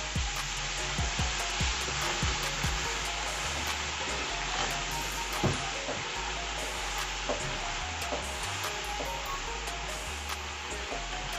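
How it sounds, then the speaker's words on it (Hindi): Chopped tomatoes frying with spices in a pan for Lahori-style anda chana, giving a steady, loud sizzle with scattered crackles and stirring scrapes throughout. "अब इसमें 2 चॉप किए हुए टमाटर डालने हैं। अब इसको फ्राई करना है।"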